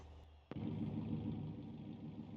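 A 454 cubic-inch 7.4-liter V8 in a four-wheel-drive truck on dirt in BeamNG.drive starts with a sharp catch, then settles into a loud, steady, rumbling idle close by.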